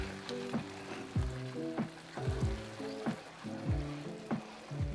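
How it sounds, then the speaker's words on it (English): Warm broth with soy sauce, gochugaru, salt and black pepper goes into simmering rice for cheesy gochujang arancini, giving a steady close sizzle and bubbling broken by repeated stirring scrapes, with no talking. "add 1 cup of warm broth, soy sauce, gochugaru, salt, and black pepper"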